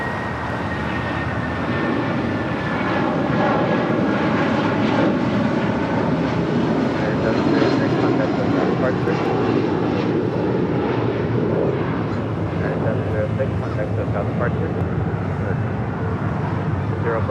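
Jet aircraft engines roar steadily at LAX during a takeoff, a loud continuous broadband rumble with a faint high whine, close and sustained throughout with no clear talk over it.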